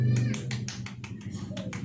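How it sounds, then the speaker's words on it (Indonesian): Classroom of high school students claps hands together in a quick burst of about eight to ten distinct claps, close and fairly loud, with a teacher's voice and children's chatter mixed in. "Kita tepuk tangan buat kita semua ya."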